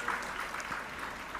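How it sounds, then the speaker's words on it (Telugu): Telugu church congregation clapping together in praise of God, a steady, dense wash of many hands at moderate distance, fairly soft, with no talk over it. "చప్పట్లు కొట్టి దేవుని స్తుతిద్దాం."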